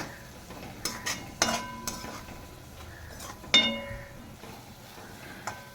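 Spoon stirring coriander into a methi pithla mixture in a pan, with a few sharp close metallic clinks over a soft scraping background.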